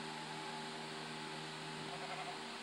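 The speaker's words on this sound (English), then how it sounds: "Stupid sheep." A sheep bleats faintly and distantly beneath a steady electrical hum, one soft drawn-out call about two seconds in, with no talking.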